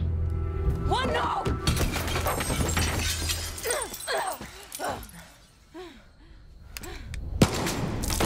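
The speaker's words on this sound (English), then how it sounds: "I'm taking the shot." A gunshot rings out in the video game Far Cry 6, a sharp shattering crack amid a tense scene with shouting voices and a sudden loud impact near the end.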